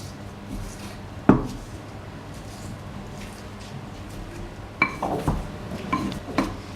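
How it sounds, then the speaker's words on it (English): Chopped onions, garlic and ginger are mashed into a puree with salt, heard as scattered clinks and scraping knocks of a utensil against a bowl, with a sharp knock early and a busier patch of scrapes near the end. "now we're gonna mash it into a puree"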